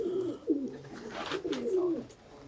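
Pigeons at a pigeon-keeping loft in Sialkot coo softly and close by, with a few throaty rolling calls repeating over a quiet background and no speech.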